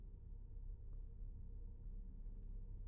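Cars passing by in a video game, a faint low rumble of traffic rolling steadily in the distance with no voices on top.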